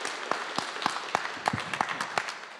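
Sparse, evenly spaced hand claps from a small audience at a talk-show recording, fairly faint and roughly rhythmic, set against a soft room hum.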